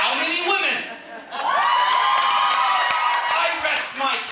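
A poetry slam audience in Austin cheers, whoops and shouts, a loud crowd roar that dips briefly and then swells again, with voices mixed in.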